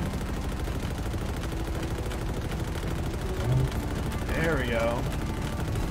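Gunfire in the Halo campaign on Legendary, a dense steady stream of rapid shots running under the whole stretch, with a player's voice briefly talking near the end.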